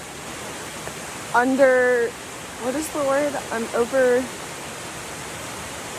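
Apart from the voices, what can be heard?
Desoto Falls waterfall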